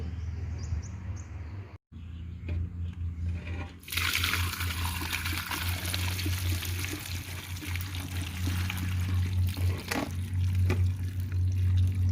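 Water is poured into a container of pickled hog plums soaking in brine, a steady trickling pour that swells after a brief pause, with faint bird chirps in the background.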